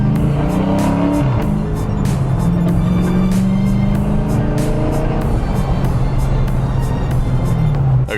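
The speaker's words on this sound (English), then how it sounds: "do you know how to control a car that's spinning tires like that?" A truck engine at full throttle roars continuously with its tires spinning and squealing, loud and close, the pitch wavering as it revs.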